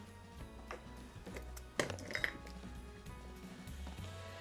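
Two spoons scoop Speculoos cookie butter into a glass mug, giving a few soft clinks and a brighter tap of metal on glass near the middle, quiet and close with no talking.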